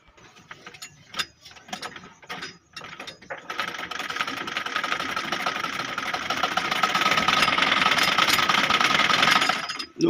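A sewing machine runs close by, starting with a few short clicking bursts and then settling into a steady, fast mechanical whir that grows louder and continues without talk.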